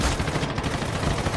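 Rapid gunfire in the Skibidi Toilet Multiverse video game, a dense, continuous burst of loud shots that fills the whole moment without pause.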